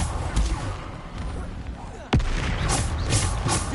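Bombarda spell blasts in Hogwarts Legacy land among dense combat noise, with a sharp loud impact about midway through and a steady roar of battle sounds around it.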